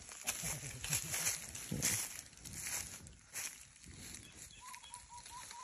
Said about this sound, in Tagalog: Ang marinig lang natin dito yung mga huli ng ibon.